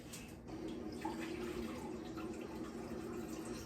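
Water runs from a newly installed reverse osmosis tap into a container in a home kitchen, a soft, steady trickle with a faint rising fill tone, quiet and close with no talking.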